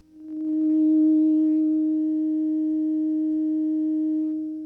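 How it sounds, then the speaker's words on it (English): A steady FM synth tone from a Yamaha YMF262 chip swells in and holds, wavering gently in pitch and loudness with vibrato, then fades slightly at the end. "we can add frequency and amplitude vibrato in various strengths"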